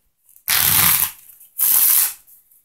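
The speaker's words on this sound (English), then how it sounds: "And one last shuffle." A deck of playing cards is shuffled twice in close, loud bursts: a riffle of about half a second, a brief pause, then a second shorter riffle, with no talking.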